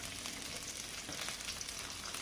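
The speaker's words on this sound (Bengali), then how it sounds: "পেঁয়াজ কুচি আর কাঁচা ঝাল জিরা দিয়ে দিচ্ছি।" Chopped onion, green chili and cumin frying in hot oil, a steady soft sizzle and crackle with no voices.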